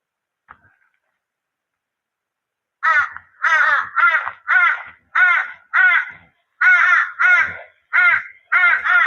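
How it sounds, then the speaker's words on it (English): Crows in Karawatha Forest give a run of loud, harsh caws, about ten calls in a steady rhythm after a faint click and a couple of seconds of quiet; close and clear, no talking. "They're two friendly crows."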